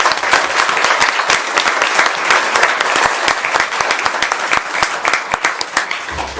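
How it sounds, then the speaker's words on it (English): Applause fills a Geauga County commissioners meeting, a sustained, lively round of many hands clapping up close, steady for several seconds before tapering off. "Give them a round of applause."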